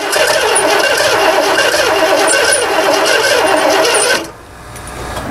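A project vehicle's engine with two nearly empty fuel tanks is cranked by the starter, a loud, continuous mechanical whirring close by for about four seconds before it cuts off abruptly.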